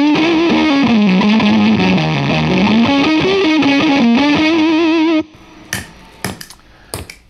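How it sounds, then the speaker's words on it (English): Electric guitar played through a Land Farm No Masters Fuzz pedal, thick and saturated with sustained distorted chords and a singing lead line, loud and continuous, then cut off into a few sparse, choked stabs. "So that is the Land Farm No Masters Fuzz."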